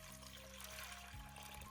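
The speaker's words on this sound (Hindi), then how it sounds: "फिर डालेंगे पानी।" Water pours steadily into a kadhai holding raw rajma beans, a continuous splashing stream heard up close and alone.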